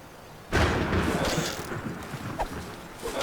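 A fire spell is cast in the dungeon game Legend of Grimrock 2: a sudden loud whooshing burst that roars briefly, then tails off into a fading, crackling rumble.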